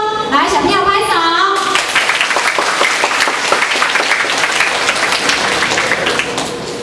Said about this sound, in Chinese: 来，小朋友拍手